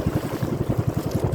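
A small motorboat engine putters with a rapid, regular low throb, steady and fairly close.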